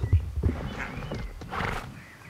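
Horse in the Star Stable Online game pulling up abruptly from a gallop, with heavy hoof thuds followed by a neigh, close and fairly loud with no talking.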